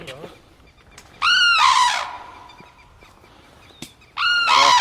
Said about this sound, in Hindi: राज्य पक्षी जो है सारस यहाँ नगरिया वेटलैंड में किस प्रकार से विचरण कर रहा है